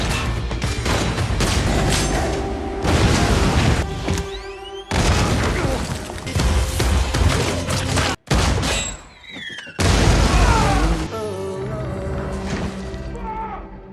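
Battle scene from the 2021 film Nobody, with loud booming explosions, rapid gunfire and crashes in dense bursts, brief pauses between volleys and ringing debris after blasts.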